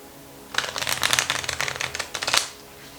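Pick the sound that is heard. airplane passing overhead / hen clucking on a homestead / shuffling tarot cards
shuffling tarot cards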